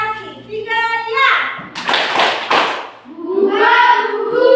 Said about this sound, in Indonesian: Kita buat dulu tepuk literasi.